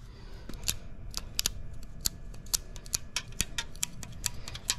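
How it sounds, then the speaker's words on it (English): Scissors snip through moldy, sticky VHS tape in a run of sharp, quick, irregular clicks, close up with no talking. "So we'll cut past that."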